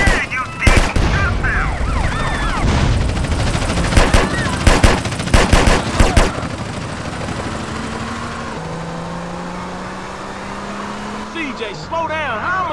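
Rapid bursts of gunfire during a drive-by in GTA San Andreas mobile, fired from a Mercedes-AMG A45 S, with sharp repeated volleys over engine noise. A siren wails later, and voices talk throughout.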